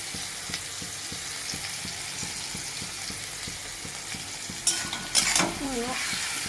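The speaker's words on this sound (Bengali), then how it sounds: "চিংড়ি মাছগুলো দিয়ে দিলাম। এবার ভালো করে কষিয়ে নেব।" Prawns being stir-fried with salt in a pan for a kochur loti dish, a steady sizzle with soft rhythmic stirring scrapes throughout, followed near the end by a couple of louder clatters and a brighter hiss.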